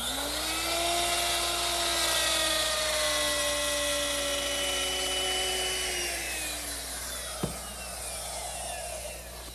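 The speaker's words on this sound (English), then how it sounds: "It's a straight cutter, but the bearing is here at the top of the bit rather than at the bottom" A router fitted with a top-bearing straight bit cuts a template-guided cutout in wood, giving a loud, steady high whine that holds for several seconds, sags in pitch as the bit loads, then ends with a brief sharp snap.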